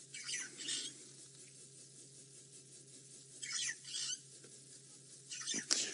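A starling calls with harsh, squeaky squawks in scattered short bursts, fairly faint against a quiet outdoor background.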